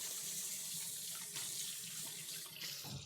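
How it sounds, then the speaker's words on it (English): Tap water runs steadily into a kitchen sink while hands are rinsed, a continuous close splashing hiss that carries from start to finish with a brief dip near the end. "I'm gonna give my hands a quick rinse."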